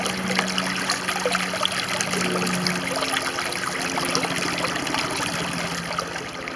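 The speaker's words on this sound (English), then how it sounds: "I just love that sound of running water." Water trickles and splashes continuously at close range, a steady babbling flow with a faint low hum in the background.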